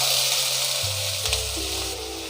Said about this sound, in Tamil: இப்போ இதை நல்லா வதக்கிடுங்க